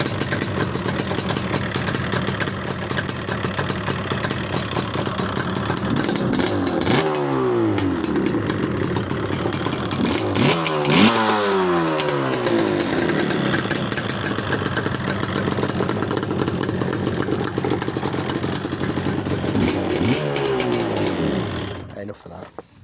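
A two-stroke LC motorcycle engine idling close by with a rattly, clattering tone, blipped into several sharp revs in the middle and shut off at the end.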